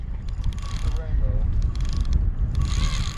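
Fishing reel drag buzzing and ratcheting as a big Wyoming rainbow trout strips line, a raspy clicking whir close by, surging in bursts over about three seconds.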